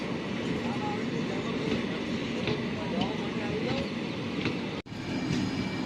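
A train pulls out of Lushala station on the rails, a steady broad rumble of wheels and carriages continuing throughout, with faint voices mixed in and a brief dropout near the end.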